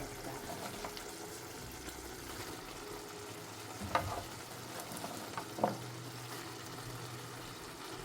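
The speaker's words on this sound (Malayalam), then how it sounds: "ഇനി നമ്മൾ നന്നായി ഇളക്കി കൊടുക്കാം." A spoon scrapes and stirs through a spinach, peas and tomato curry in a pan, with a soft continuous sizzle and a couple of brief louder knocks against the pan.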